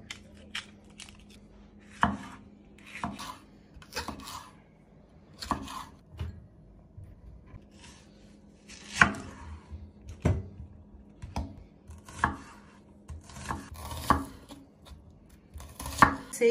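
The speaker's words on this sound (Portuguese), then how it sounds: "Agora vamos cortar o pimentão." Knife chopping a bell pepper on a board in a home kitchen, a series of distinct sharp chops at irregular intervals, fairly close, with faint background hum and no talk.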